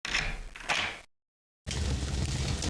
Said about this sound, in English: You hear the bolt being drawn and the door opens.